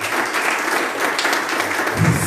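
A church congregation applauding together during a worship service, a steady wash of many hands clapping at close range with no pause across the whole stretch.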